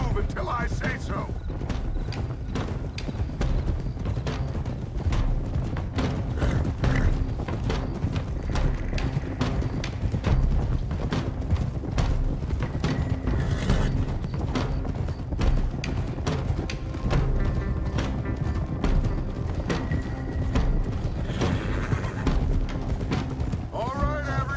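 Several horses clip-clop in a steady, overlapping rhythm in the video game Red Dead Redemption 2, loud and close, with creaking tack and gear and a brief whinny, while voices talk over the hoofbeats.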